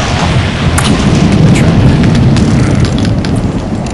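Lightning storm in the game Undying: loud, continuous low thunderous rumbling with steady rain-like hiss and a couple of sharp cracks early on, heavy and close throughout.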